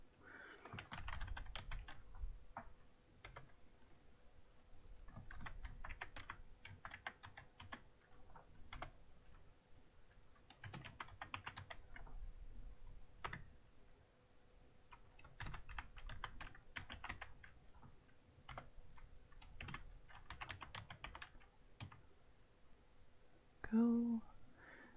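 Typing on a computer keyboard while entering headings into an Excel sheet: a steady patter of soft key clicks continues throughout, close and quiet, with a voice speaking softly over it.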